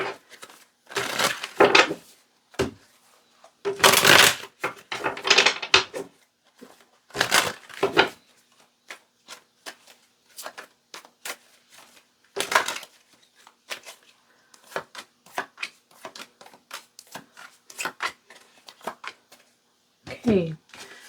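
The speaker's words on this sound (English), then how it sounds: "It's harder for me to shuffle these bigger card decks" A large tarot deck being shuffled by hand, with loud, scattered bursts of card riffling and slapping separated by quiet gaps, plus some speech near the end.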